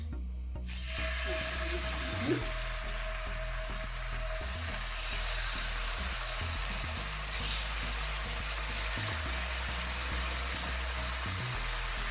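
Meat pieces frying in a little oil in a hot pan, a loud continuous crackling sizzle that starts abruptly and holds steady throughout, close up with no speech.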